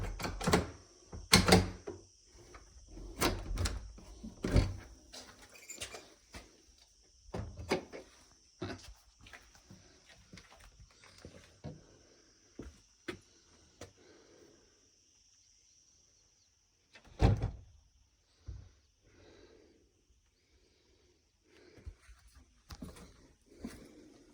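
A back door of a house being unlocked and opened: scattered knocks, rattles and clicks of a key and latch, some louder thumps, with faint birds or insects outdoors.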